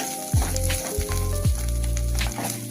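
Homemade onion-garlic spice masala sizzles in hot oil with gravy, a loud close hiss that swells with each addition, over a steady low hum.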